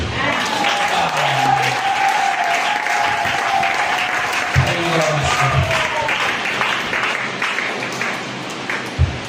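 A church congregation at a Sunday service in Tegeta, Dar es Salaam bursts into sustained, dense applause. The clapping stays loud and steady throughout, with a held sung or spoken tone running over it and some voices mixed in.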